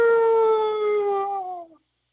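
A man gives a long, steady hound dog howl with his voice, imitating a dog: one sustained wavering tone that slowly sinks in pitch and fades out near the end, close and clear with no other sound.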